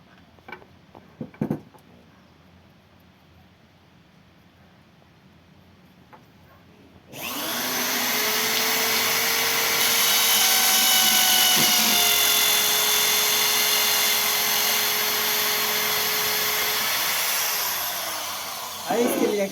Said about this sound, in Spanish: Y con la ayuda del taladro le hago el orificio.